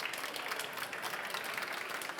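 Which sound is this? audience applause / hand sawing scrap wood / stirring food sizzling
audience applause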